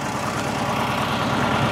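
A tractor engine set up with an auger for digging foundation holes idles steadily, with a constant low rumble and no talk.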